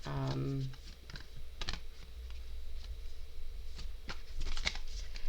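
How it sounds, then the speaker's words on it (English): Quick papery riffling and soft clicking of tarot cards being shuffled close by, in short bursts with a faint hum underneath. "So I'm just going to do a quick shuffle"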